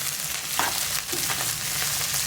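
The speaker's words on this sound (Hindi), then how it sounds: "इन चीज़ों को अच्छी तरह आप तकरीबन 2 से 3 मिनट तक भून लें।" Green chillies, chopped ginger and garlic fry in hot oil in a pan, a continuous close sizzle broken by occasional stirring clatter, with no voices.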